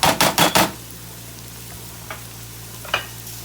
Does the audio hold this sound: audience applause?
no